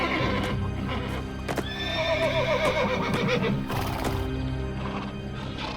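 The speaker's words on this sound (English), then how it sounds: "Only Alexander understood why the horse was in a panic." The stallion Bucephalus neighs loudly and close by, a wavering whinny over clip-clop hoofbeats and a brief crash, all with a busy dramatic backdrop.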